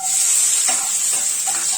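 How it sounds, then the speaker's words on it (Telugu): Chopped onions frying in hot oil in a pan for a makhana masala curry, a steady close bright sizzle with faint stirring scrapes, loud and continuous. "నేనైతే ఉల్లిపాయ తరిగిన ముక్కల్ని వేస్తున్నాను"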